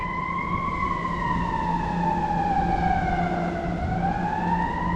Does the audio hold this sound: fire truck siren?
yes